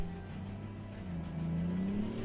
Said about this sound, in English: It's slowly reversing, but the tank turret doesn't work.